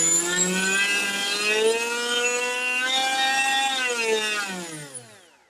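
An electric motor on a thrust stand spins a bullnose propeller with a strong, steady whine that climbs slightly in pitch, then winds down over the last second, close and alone.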